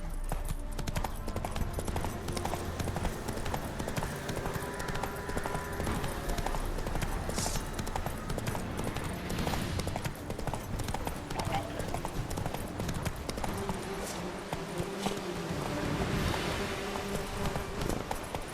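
Horse hooves galloping in The Witcher 3 video game, a steady loud clip-clop rhythm running throughout under game music and ambience, with a brief neigh-like accent.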